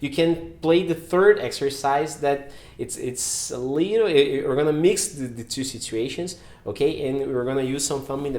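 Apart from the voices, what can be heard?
No distinct noise like a dog, phone or traffic.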